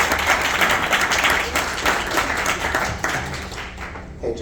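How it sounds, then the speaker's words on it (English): A room full of people gives a deputy director a sustained round of applause at a cannabis training academy anniversary event, with loud, dense clapping that holds steady throughout before thinning at the very end. "Can I get a round of applause for Penny Wild, please?"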